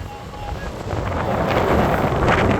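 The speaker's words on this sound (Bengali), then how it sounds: "কি বাতাস।" Strong wind buffeting the microphone at Kuakata beach, a steady broadband rush that swells louder over the clip, with faint sea or water sounds beneath.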